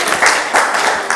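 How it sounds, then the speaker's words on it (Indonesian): Applause from an audience at a Catholic altar servers' retreat at Denpasar Cathedral, a short burst of close clapping that swells and dips in waves. "Jadi kan tepuk tangan untuk dia."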